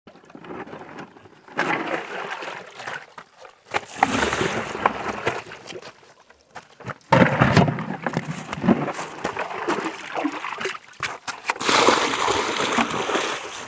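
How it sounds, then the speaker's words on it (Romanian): Water being drawn by hand from a spring-fed well about a metre deep under broken thick ice, with repeated close splashes and sloshing in bursts separated by short pauses. "Hai să începem și noi să scoatem apă de aici."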